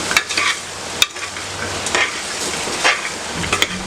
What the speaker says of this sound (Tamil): இப்போ இந்த முருங்கைக்காயை அதில் போட்டுருவோம்.